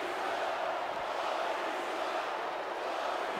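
A crowd in a wrestling video game's Universe Mode keeps up a steady, fairly faint roar of cheering throughout, with no individual voices standing out.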